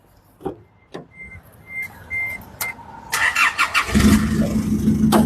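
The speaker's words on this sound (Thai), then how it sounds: "เดี๋ยวสตาร์ทให้ฟังก่อน" A few clicks and beeps, then a starter cranks briefly and a pickup's engine catches and settles into a loud, close idle.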